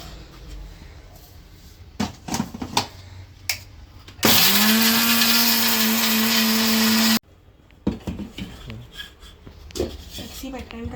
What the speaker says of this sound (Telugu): మిక్సీ పెడతాను.